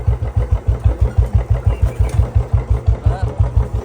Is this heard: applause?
no